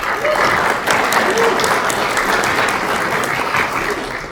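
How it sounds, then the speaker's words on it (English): An audience at a college elevator speech competition breaks into steady, full applause that stays loud throughout and eases slightly toward the end, with faint voices mixed in. "Stand up. Round of applause."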